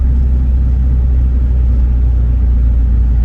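A 2016 Ford Focus RS rolling slowly, its engine giving a steady low rumble with continuous road noise from inside the cabin, no talk over it.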